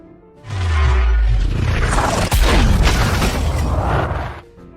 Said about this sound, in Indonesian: Dan seketika meriam itu menghantam gedung Kapten Gromov.